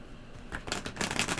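Tarot cards are shuffled close by in a quick run of crisp riffling flutters that grow denser and louder toward the end.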